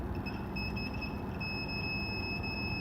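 A vibration-sensor alarm module sounds its buzzer, a continuous thin high-pitched electronic tone holding steady over a broad background hiss.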